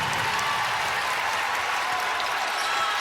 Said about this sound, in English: Crowd making some noise here.